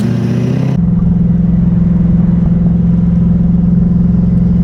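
A drift car rolls dead straight into a speed bump, its engine a loud, steady low drone throughout, with a brief sharper jolt at the very start and no talk.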